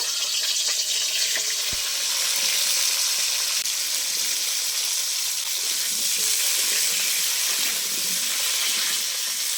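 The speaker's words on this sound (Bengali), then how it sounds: "ওই আলু ভাজার তেলেই আমি তরকারিগুলো ভালো করে ভেজে নেব" Cauliflower florets fry in oil left over from frying potatoes, giving a steady, close sizzling hiss throughout with a single soft thump early on.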